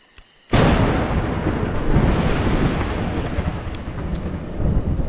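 Thunder crashes in the video game A Juggler's Tale, a sudden loud crack after near silence rolling into a long, heavy rumble with rain-like hiss beneath.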